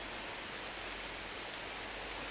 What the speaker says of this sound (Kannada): ಮಳೆ ಅಂತೂ ನಾನ್ ಸ್ಟಾಪ್ ಐತ್ರಿ